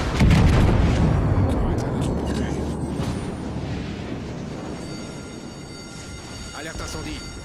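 Secondary guns on the battleship Bismarck in World of Warships fire in a loud booming volley with a rumbling tail that slowly fades, while a voice talks over it.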